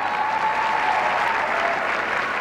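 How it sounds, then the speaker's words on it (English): Applause from a crowd in a ballroom for the couples in the International Latin dance final, a dense, steady roar of clapping throughout with a faint tone running underneath. "So a nice round of applause for our finalists, ladies and gentlemen"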